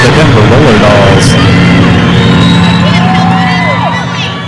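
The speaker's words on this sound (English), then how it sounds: "Got a good crowd here tonight. Quite excited, getting loud in the Glitter Dome." Roller derby fans in the Glitter Dome crowd roar and whoop loudly and continuously during a Denver Roller Dolls bout, with a voice audible over the noise before the din eases slightly at the end.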